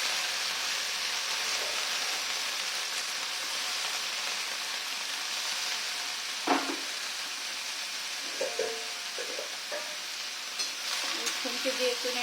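Spices such as asafoetida and whole mustard seeds frying in hot oil, stirred with a spatula, giving a steady close sizzle with occasional scraping clacks of the spatula against the pan and faint brief voice sounds.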